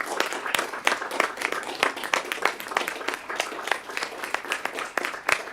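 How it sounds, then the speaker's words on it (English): An audience at a Tennessee State Board of Education meeting gives a round of applause: dense, sustained clapping from many hands, fairly close and even, with no voices over it. "But I couldn't let this pass by without us giving you a round of applause."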